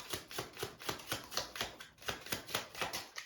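Tarot cards are shuffled quietly and rhythmically, a soft, steady flutter of riffling with no voices.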